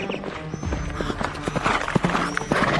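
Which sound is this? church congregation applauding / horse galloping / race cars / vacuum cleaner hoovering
horse galloping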